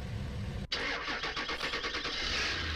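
A racing go-kart engine in Farming Simulator 19 catches after a brief starter burst, then settles into a steady, buzzy mid-pitched idle with pulsing revs. The engine sounds close and loud, with no talking.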